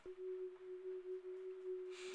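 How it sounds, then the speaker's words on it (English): A synth tone from a VC oscillation preset, made for an amapiano beat, holds a single steady pitch for about two seconds, quiet and alone, with a soft noisy flare near the end. "I'm using the VC oscillation for this particular sound"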